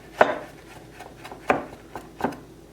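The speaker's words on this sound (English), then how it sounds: "to chop the parsley finely" A large kitchen knife chops fresh parsley finely on a board, making three crisp, separate chops with fainter taps between them, close by and with no talk.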